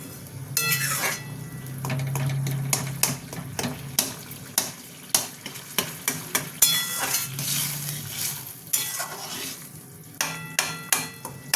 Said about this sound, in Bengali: এটা একটু ভাজা ভাজা হয়ে যাক।